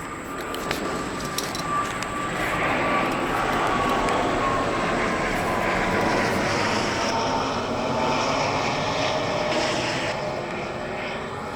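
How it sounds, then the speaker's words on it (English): A private jet passes over a house, its steady engine roar filling the whole stretch at moderate level with a faint whine drifting downward as it moves through, no talking over it. "There's a private jet flying over my house."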